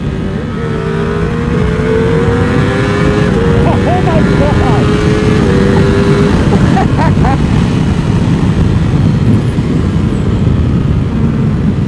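A 2020 Ducati Streetfighter motorcycle riding on an empty freeway, heard as a loud, steady engine drone and wind roar with a few pitch shifts as it accelerates, a voice briefly audible over it.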